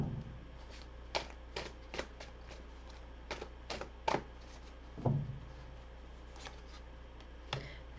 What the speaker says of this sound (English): I'm going to pull some more cards on that.